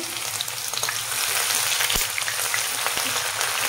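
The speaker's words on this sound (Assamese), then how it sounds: "ৰিফাইন গৰম হ'ল এয়া মই গোটা মছলা দিছো এইখিনি ফুটিলক এয়া আদা নহৰু দিছো একবাৰ লৰাই দিম" Whole spices with ginger and garlic frying in hot refined oil, a dense continuous sizzle and crackle, loud and close, with occasional sharp pops as the pan is stirred.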